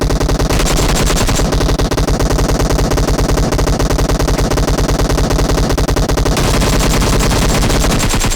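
Automatic gunfire from the video game PUBG Mobile rattles in long, dense, loud bursts, steady rapid shots pounding nonstop for several seconds with no voices over it.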